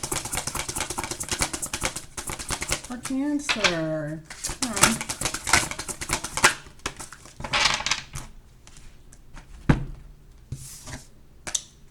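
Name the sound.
tarot cards being shuffled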